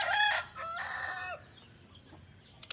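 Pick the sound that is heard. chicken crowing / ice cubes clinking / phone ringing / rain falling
chicken crowing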